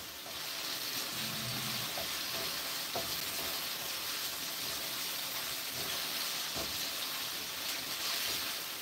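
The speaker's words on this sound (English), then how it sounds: "So I'm sauteing all the seasoning right here" Seasoning sautés in a wok, giving a continuous, even sizzling hiss with faint clicks of stirring and no talk.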